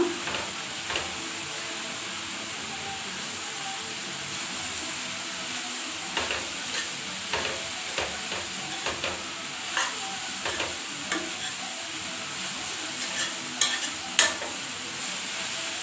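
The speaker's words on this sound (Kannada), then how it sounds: "ಅದನ್ನು ಹಾಕ್ಕೊಂಡು ಚೆನ್ನಾಗಿ ಹುರ್ಕೊಳ್ಳಿ, ಹಸಿ ಕಾಯಿ ಎಲ್ಲ ಹೊಂದ್ಕೊಳ್ಳೋ ತನಕ" Grated coconut and beetroot are stir-fried in a pan for a Kannada-style palya, giving a soft, steady sizzle with repeated scraping taps from a stirring spoon, close and without talk.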